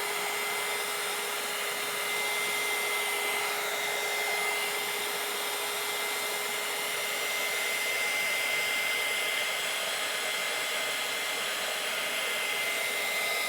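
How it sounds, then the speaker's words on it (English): A heat gun blows on melting crayon, a steady, loud electric whirr of forced air with a fixed whining tone that runs unbroken the whole time. "the heat gun is so strong, it's pushing it up"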